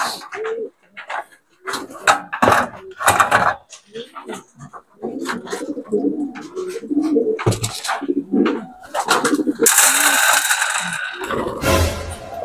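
Racing pigeons coo at a home loft in soft, repeated calls, mixed with people's voices and a burst of rushing noise near the end.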